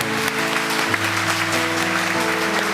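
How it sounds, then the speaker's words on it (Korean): A church congregation applauds in thanks during a worship service, a continuous wash of clapping over sustained low organ or keyboard tones that keep sounding underneath. "우리 한 번 더 우리에게 평안을 주신 하나님 앞에 감사의 박수"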